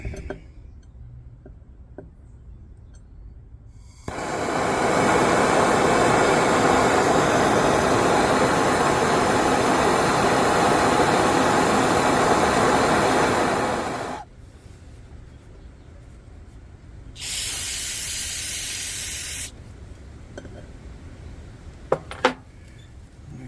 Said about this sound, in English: So I'm gonna take the torch, heat that carbon up